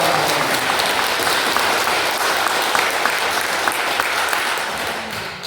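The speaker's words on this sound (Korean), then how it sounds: "다시 한번 힘찬 박수 보내주시기 바랍니다" Sustained, dense applause from an audience at a parish spiritual education lecture in a Catholic church, steady and loud throughout before tapering slightly at the end.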